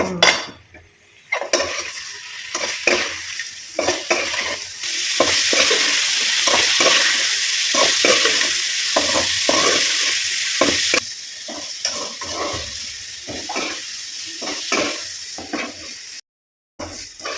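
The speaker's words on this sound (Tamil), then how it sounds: "இந்த அளவுக்கு பொரிஞ்சு சுருண்டு வந்துருக்குது" Bitter gourd frying in oil in a pan, a loud, continuous sizzle close up, broken by the repeated clinks and scrapes of a utensil stirring against the pan, with no talking.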